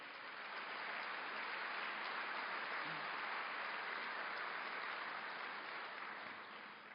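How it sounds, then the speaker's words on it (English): Sustained round of applause from an audience at a business group's annual meeting, steady broadband clapping that fills the whole stretch, loud and even, fading slightly at the end. "Let's give them a round of applause."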